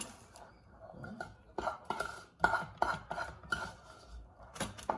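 Caramel is spread across popcorn with a utensil, giving repeated scraping, rubbing and crunchy rustling strokes against the pan in an uneven rhythm, close and moderately loud, with no talking.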